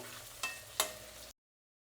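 Raw mango pieces fry gently in oil on a low flame, a steady soft sizzle broken by two short scraping stirs before cutting off abruptly.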